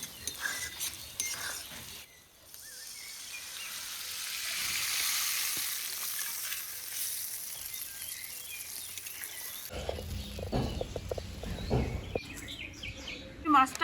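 Fried spices for a taki fish curry sizzle loudly in a pan, a steady hiss that swells after water is poured in, with stirring clatter and a burst of bubbling near the end, no talk.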